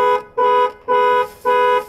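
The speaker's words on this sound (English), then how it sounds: "It's got a flapper horn." A Jeep's flapper horn honks four times in an even rhythm, each blast a loud, buzzy, harmonic tone with short gaps between, heard up close and alone.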